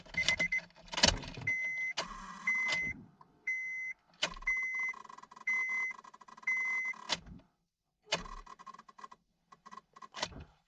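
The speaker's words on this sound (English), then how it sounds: "the car won't start, and you can hear a noise right here on the other side of the switch" A 2003–2007 Honda Accord with a faulty ignition switch repeatedly tries and fails to start, with choppy bursts of cranking and clicking interrupted by steady electronic dashboard chimes.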